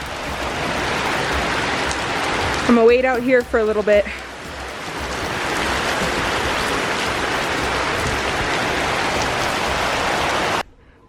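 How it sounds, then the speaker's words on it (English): Heavy rain pours steadily outdoors on a walk around Cusco, Peru, a dense continuous hiss, with someone speaking briefly over it partway through. "The real rain begins."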